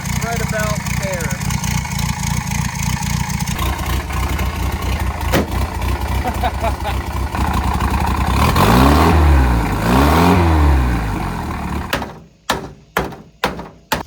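A modified MGB engine revs hard under a boost-pressure test, a loud sustained roar that sweeps up and down twice before cutting to a few short sharp blips, with a voice speaking over the running engine early on.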